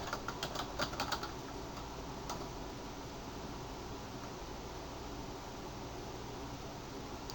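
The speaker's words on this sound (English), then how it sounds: "I'm going to type in portable." Typing on a computer keyboard, a quick cluster of light key clicks at the start with one or two more later, faint against steady hiss.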